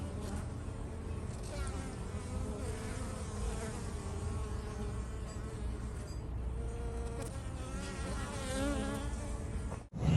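A swarm of honeybees crawling into their hive at dusk buzzes close by, a dense, continuous hum of many insects with wavering pitch, steady for the whole stretch.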